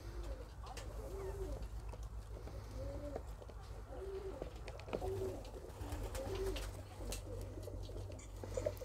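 A yellow-orange show pigeon coos in soft, repeated low calls at close range over a steady background hum, with no talk.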